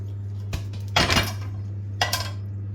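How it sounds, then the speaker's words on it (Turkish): Spoon clinks against a pan while tomato sauce goes over pan-cooked köfte meatballs, a few separate metallic taps and scrapes spaced over a couple of seconds against a steady low kitchen hum. "Köftemizin üzerine domates soslarını veriyoruz arkadaşlar."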